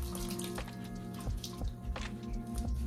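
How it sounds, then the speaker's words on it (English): Water dribbles and drips onto the substrate of a small crested gecko terrarium, a steady wet trickle with soft splashy squishes as the bedding soaks it up, close and alone. "Now I'm gonna put some water on it and hydrate it."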